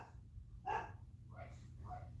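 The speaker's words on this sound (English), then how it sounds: "What is she barking at?" A dog gives a few soft barks, faint and somewhat distant, spaced across a couple of seconds over a low background hum.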